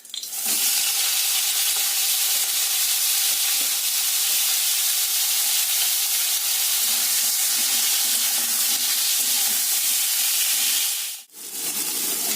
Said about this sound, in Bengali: কাঁকড়াগুলোকে লাল লাল করে ভেজে নিলাম